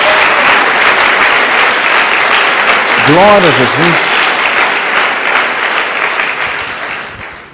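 Sustained applause fills a church service as the congregation claps for Jesus, a thick continuous roar of hands, with a spoken exclamation and a short sung phrase heard over it partway through.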